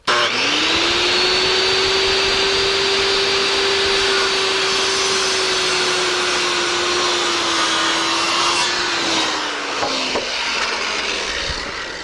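A power saw cuts roof framing lumber to a 1.5-inch depth, a loud steady whine running continuously for about ten seconds before trailing off near the end.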